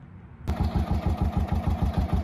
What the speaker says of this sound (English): now I've started it with oil in it and most of the engine noise is gone